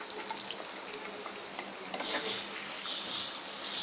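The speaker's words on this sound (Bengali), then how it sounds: "তো এখন আমি দিয়ে দেব পেঁয়াজ কুচি।" Chopped onion fries in a pan of hot oil for chicken curry with potol, a soft, continuous sizzle that swells louder partway through, with faint stirring and no voices.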